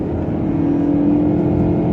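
A 2018 Toyota Camry hybrid SE accelerates from 80 km/h, heard from inside as a loud, steady engine and road drone with a low hum holding throughout.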